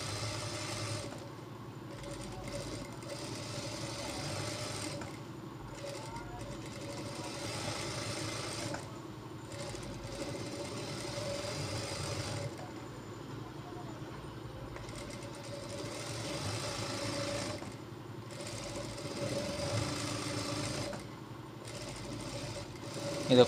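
Sewing machine stitching a blouse back neck design, running steadily in a continuous whirring hum for the whole stretch, with brief pauses and restarts, fairly close and moderately loud.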